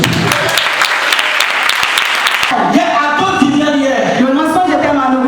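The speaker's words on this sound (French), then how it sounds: "On acclame Jésus." Church congregation at a Pentecost service in Abidjan applauding and acclaiming Jesus, a loud dense burst of clapping and cheering that gives way midway to a voice and tonal music over continuing crowd noise.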